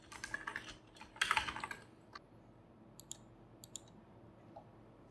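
Fingers type a short script on a computer keyboard, a quick flurry of soft clicking keystrokes at first, then sparse, isolated taps, quiet and close with no voices.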